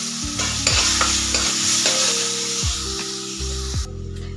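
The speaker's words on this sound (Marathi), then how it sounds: "आता आपण गवारीची शेंग त्याच्यामध्ये टाकून घेऊ" Cluster beans tossed into gram flour frying in oil give a loud, continuous sizzle with repeated metallic stirring scrapes at a steady rhythm, close up.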